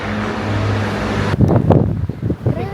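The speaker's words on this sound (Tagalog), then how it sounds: "Grabe yung hangin!" Strong cold wind blowing outdoors in Taiwan, first a steady rushing roar with traffic hum beneath, then gusty buffeting blasts against the microphone, loud and close.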